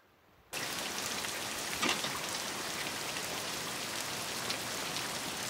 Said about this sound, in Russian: она мокнет под дождем